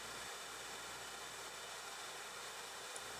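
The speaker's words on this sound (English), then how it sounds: "Place the vacuum head down on the floor and leave the motor running." A Clayton Electric Warthog HEPA vacuum left running with its head on the floor, giving a steady, even motor hiss and whir that stays constant throughout.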